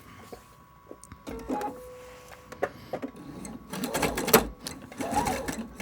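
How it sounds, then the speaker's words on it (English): A sewing machine with a tension problem tries to sew a straight stitch seam, giving faint intermittent clicks and short mechanical bursts that grow busier toward the end rather than a steady run. "So we're going to make our straight stitch seam."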